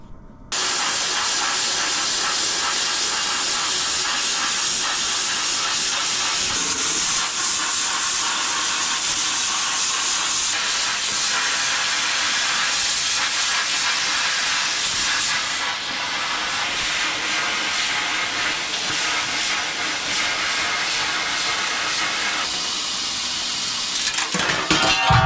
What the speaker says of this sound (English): I'm going to get the plasma up and running and cut this out